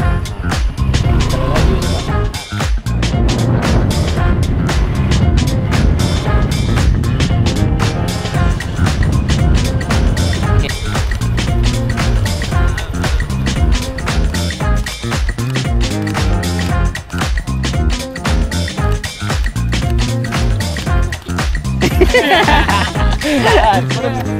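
Motorbike engine running steadily while riding slowly, recorded close during running club event coverage, with engine noise and wind filling the whole stretch.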